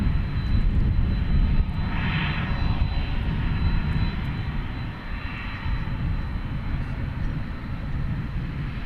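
An airliner taxis at DFW Airport at night, its engines a steady, distant roar with a broad rumble throughout and faint swells, no talking heard.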